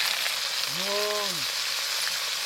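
Garlic, chili and turmeric frying in oil, a steady bright hiss and crackle heard close; a short voice sound rises briefly over the sizzle.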